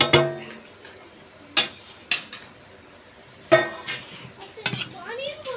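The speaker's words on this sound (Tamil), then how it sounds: "இந்த பாத்திரத்தில் போட்டு நல்லா கிண்டிக்கணும்" A utensil stirs black urad dal roasting in a vessel for idli podi, making a few sharp metallic scrapes and clinks against the pan at irregular intervals, close and distinct over a quiet background.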